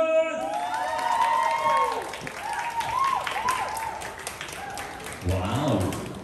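An audience at a drama series press launch claps and cheers in welcome for the lead actress, a broad steady wash of applause with scattered whoops, a voice talking over it near the start.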